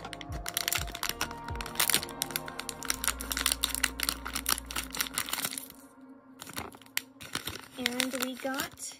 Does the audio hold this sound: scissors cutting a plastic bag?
yes